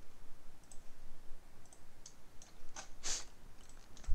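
Mouse clicks in a Star Wars game menu, a scattered series of light, sharp ticks at irregular intervals, with one louder click near the end over a low hum.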